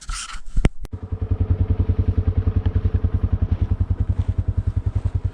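A vehicle engine idling or rolling slowly nearby, a close, steady rhythmic chugging pulse after a couple of brief knocks at the start, with no voices.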